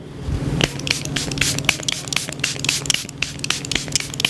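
A quick series of short bursts from a makeup setting spray hisses close by, each puff brief and crisp, repeated in an uneven rhythm.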